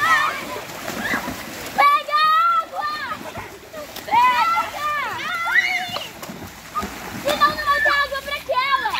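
Splashing water in a swimming pool as people jump in, with bursts of splatter under loud, excited children's voices and shouting throughout.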